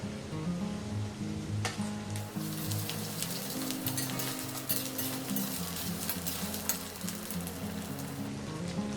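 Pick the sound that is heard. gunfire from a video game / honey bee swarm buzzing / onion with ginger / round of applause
onion with ginger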